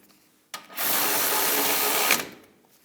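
A power tool drives in a brake caliper bracket bolt on a 2015-2022 Chevrolet Colorado rear brake, one loud buzzing whir of about a second and a half, close by.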